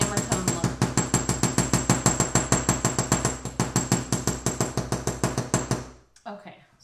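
Rapid, regular hammer strikes on copper sheet form a steady close tapping rhythm of about five blows per second, stopping near the end.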